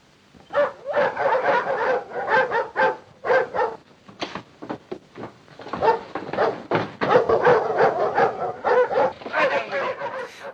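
Dogs barking in a 1935 crime thriller train chase scene, a busy run of repeated sharp barks and yips from several dogs, fairly close and continuous throughout.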